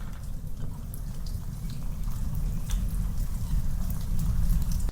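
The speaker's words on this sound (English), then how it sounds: "Here is our original rain sound, and currently it's panned halfway over to the left." Steady rain ambience used as a sound-effect track in a song mix, a dense continuous patter with scattered drips. It stays fairly loud and even throughout, with no voices.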